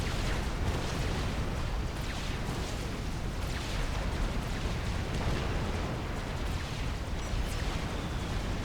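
Triad weapons firing in the strategy game Forged Alliance Forever, a dense, continuous rumble of booming explosions and artillery-like blasts that stays loud and steady throughout.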